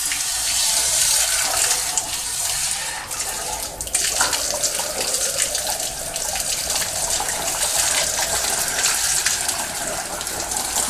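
Water gushing and splashing steadily out of a steam boiler during a washout, a continuous loud rush with small shifts in flow, close by and with no talking.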